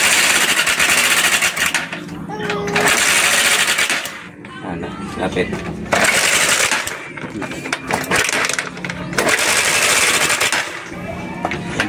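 A hard-starting Honda TMX 125 motorcycle engine runs roughly in bursts, coughing and rattling loudly with irregular revs, stumbling and dropping off between surges, with brief talk in between.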